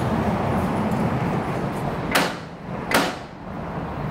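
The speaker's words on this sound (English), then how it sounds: "we can hear that they're made of heavy metal" Heavy iron doors on a granite building along a historic waterfront scrape and thud twice in quick succession, loud against a steady roar of outdoor background noise.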